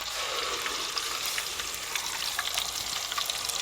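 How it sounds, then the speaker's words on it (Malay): Sea bass (siakap) frying in hot oil in a pan, a steady close crackle and hiss with scattered sharper pops, no voices. "Minyak dah panas, ready untuk kita goreng"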